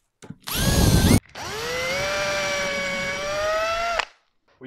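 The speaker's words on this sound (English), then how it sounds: "we're going to use one of these drill bits which automatically finds the centre" A power drill fitted with a self-centering bit bores hinge holes in a wooden stair gate, with a short whine, a brief pause, then a longer steady run that winds down. The drill sounds close and loud, with no talking.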